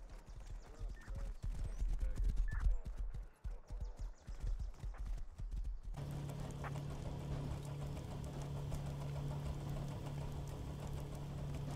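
Horse hooves clip-clopping in the survival video game Rust, a steady run of sharp, rapid hoof knocks up close that gives way to a smoother, droning rhythmic patter over low background hum.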